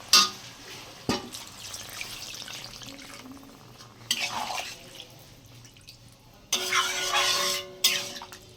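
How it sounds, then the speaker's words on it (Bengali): Water poured into a simmering potato and tilapia curry, with intermittent splashing bursts and a spatula scrape over quiet pan noise, close by with no talk. "এবার পরিমাণ মতন জল দিয়ে দেবো"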